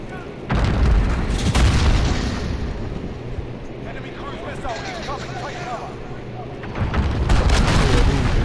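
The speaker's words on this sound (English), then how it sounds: "Enemy cruise missile." Heavy booming cruise missile blasts in Call of Duty: Modern Warfare thunder loudly at the start and again near the end, with lighter rumbling and game effects between.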